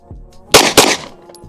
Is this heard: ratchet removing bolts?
no